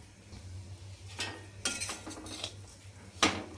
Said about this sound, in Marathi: आपण याच्यामध्ये टाकू खोबऱ्याचा किस टाकायचा आहे आणि तो पण छान आपल्याला सोनेरी कलरवर भाजून घ्यायचा